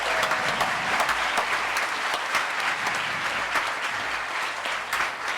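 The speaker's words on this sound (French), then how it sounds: "Bravo Joseph, applaudissez-le." A church vigil audience claps continuously for several seconds, a dense, even applause at moderate volume with no voices on top.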